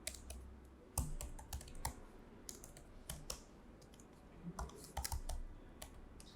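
Hello-world code being typed on a computer keyboard, with irregular bursts of crisp key clicks and short pauses in a quiet room, close and fairly soft.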